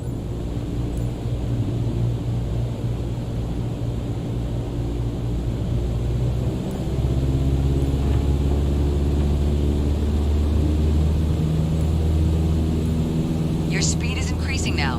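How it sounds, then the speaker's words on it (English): Flight-simulator aircraft engine drones steadily, then its pitch and rumble rise and strengthen as the throttle advances to 2400 RPM, a continuous propeller-engine hum in Microsoft Flight Simulator. "let's throttle back up to 2400 RPM"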